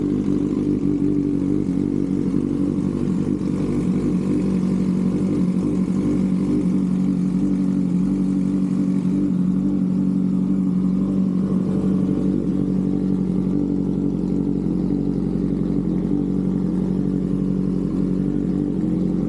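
Kawasaki Ninja H2 motorcycle engine idling after a cold start, a steady loud mechanical drone with light clatter running unbroken throughout.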